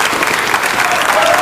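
A crowd claps in steady, dense applause, close and loud throughout with no pauses; the clapping comes from people in a scene about the Lautaro Lodge in early Chilean independence.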